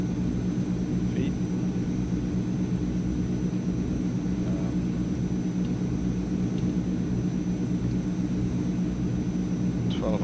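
Steady low drone of Transall C160 cargo plane engines in Microsoft Flight Simulator, a constant rumble filling the whole stretch with no letup.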